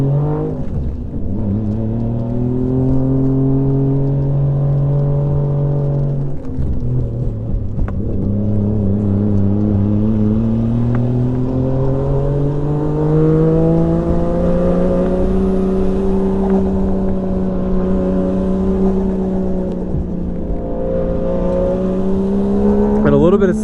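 A Toyota Cresta drives a lap of Nikko Circuit with a steady engine drone that rises and falls through the gears and corners, heard from inside the car, with someone talking over it throughout.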